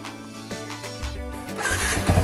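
A fuel-injected 2008 Yamaha Vixion motorcycle, which had a faulty regulator-rectifier, cranks with a short whirring starter for about a second, then its engine catches and settles into a close, rising idle.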